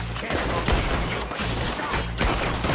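Rapid, loud gunfire in a Red Dead Redemption 2 shootout, bolt-action rifle among the bursts, several heavy booming shots in quick succession.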